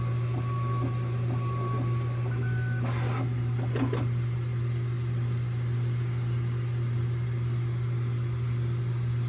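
A Bambu Lab X1 Carbon 3D printer printing PLA, giving a steady mechanical hum with a few short electronic tones and a brief clatter of movement near the start.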